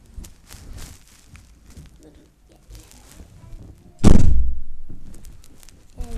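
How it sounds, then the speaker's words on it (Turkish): An indoor door swings shut with one heavy, close thud that rings out and fades over about two seconds, after quiet shuffling and faint room noise. "Şuradan kapıyı kapatalım."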